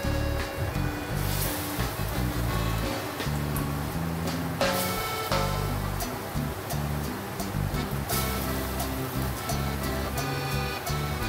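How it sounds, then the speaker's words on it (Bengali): Heavy monsoon rain heard from indoors through a closed window, a dense continuous roar at steady volume with faint kitchen clatter mixed in. "বাইরে বৃষ্টির আওয়াজ আসছে"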